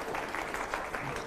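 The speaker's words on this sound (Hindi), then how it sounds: "क्योंकि बच्चे ताली बजा रहे हैं" Children clap at a televised political debate, a quick, uneven patter of small claps heard at moderate distance over a low murmur of voices.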